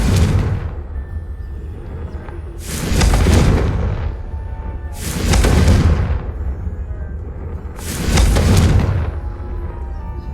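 Four powerful blasts from the Confringo blasting spell in Hogwarts Legacy, evenly spaced about every two and a half seconds, each a loud booming burst with a crackling tail over a constant low rumble, with no talking.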